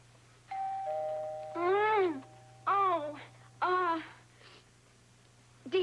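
A doorbell chimes indoors, its sustained ringing tones followed by a few rising and falling harmonic sounds, fairly close and clear with no speech.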